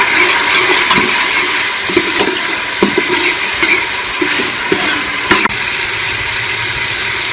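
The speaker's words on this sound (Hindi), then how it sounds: "अब हम इसमें ये सारे मसाले शामिल कर लेंगे और मसालों को भी अच्छी तरह से भून लेंगे" Tomatoes and spices for a restaurant-style tadka dal fry in a pan with a loud, steady broadband sizzle. Faint clinks and stirring taps are heard now and then, and no one speaks.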